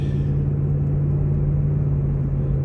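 Car cruising along a back road, a steady close engine hum and low tire rumble with a strong constant drone, no talking.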